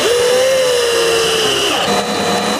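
A power drill drives a screw into a wooden insect hotel panel, its motor whining steadily before slowing and stopping near the end, with no one talking.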